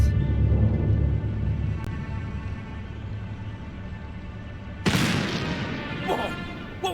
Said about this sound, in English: Whoa! What was that? Sounded like a gunshot.